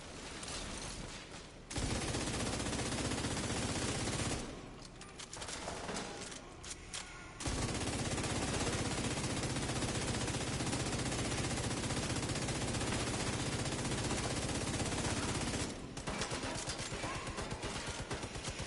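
Sustained automatic gunfire in The Division 2, with long loud bursts of rapid shots separated by brief pauses, close and dense, with faint voices in the background.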